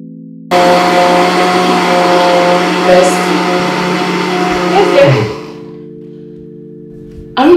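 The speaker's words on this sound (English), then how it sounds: "Benita, it's just the blender." Kitchen blender running steadily at close range with a loud whirring motor drone, then winding down and stopping near the end.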